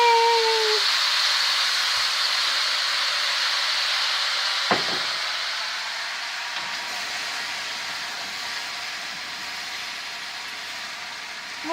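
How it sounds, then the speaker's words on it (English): Soy sauce added to ham fried rice gives a loud, continuous hissing sizzle from a hot pan, steady and close throughout, with a brief clatter in the middle and no talking. "I'm going to put quite a bit in there. And hear it sizzle."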